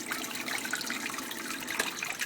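Water swirls in a blue bowl gold concentrator, a continuous close churning and trickling wash with gurgling bits, steady throughout and no voices.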